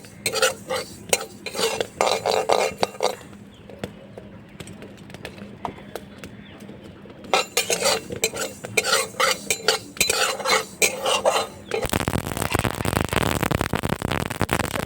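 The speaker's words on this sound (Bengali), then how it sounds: "আমি শুকনো করে একটু সর্ষেটা একটু ভেজে নিই" Black mustard seeds dry roasting in a hot wok, with busy clattering, scraping and stirring as the seeds are tossed, broken by a quieter lull, then a continuous close rattling hiss toward the end.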